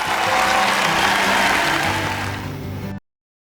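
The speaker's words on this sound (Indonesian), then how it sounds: "Tepuk tangan dong buat Tuhan Yesus" Young children clap for Jesus in a kids' online church class, a dense, steady patter of hands for about three seconds before cutting off abruptly.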